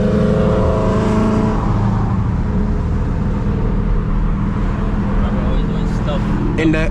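A Dodge SRT Hellcat V8 engine roars loudly from inside the car while driving and drifting, a sustained, gritty rumble under bursts of acceleration, with a few faint squeaks toward the end.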